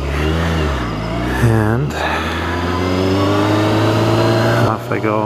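A sport bike engine revs as the rider pulls away, a loud, close motor drone that climbs in pitch, with a spoken word near the start and a brief dip near the end.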